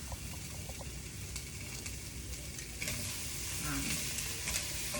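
Cauliflower browning in a frying pan, a soft, fairly distant sizzle with light crackling that grows slightly louder toward the end, with no clear speech.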